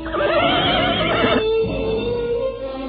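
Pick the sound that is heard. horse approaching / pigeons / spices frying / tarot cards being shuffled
horse approaching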